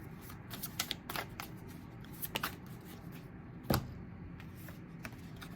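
Tarot cards are shuffled by hand in quick riffling bursts, a crisp papery flutter repeating several times at close range, quiet and without talk.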